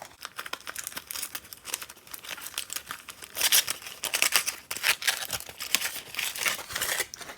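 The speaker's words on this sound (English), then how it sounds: "then unwrap the foil" Aluminum foil being unwrapped from a wet test piece after a shake, a continuous close, loud crinkling and crackling with bursts of tearing-like rustle and no talk.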